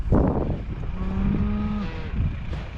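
Cattle on a Kansas ranch moo once in a long, loud, low call close by, over outdoor rumble and a brief noise at the start.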